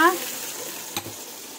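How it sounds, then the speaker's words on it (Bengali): Bay leaf and dried red chilli crackle in hot oil, a bright continuous sizzle with one sharp pop, close and alone after a brief voice at the start. "এই তেলের মধ্যে কিন্তু আমি দেবো তেজপাতা আর হচ্ছে শুকনো লঙ্কা একটা ফোড়ন দিয়ে দিলাম ঝাঁটাস করে"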